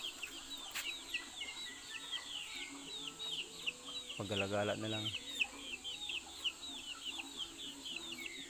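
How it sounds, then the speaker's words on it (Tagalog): Hens and young chicks on a farm give soft, scattered clucks and high peeping cheeps, with a louder rooster-like call in the middle, while someone talks quietly nearby. "yan mga sisiyo guys oh. Dahil mga manok guys oh."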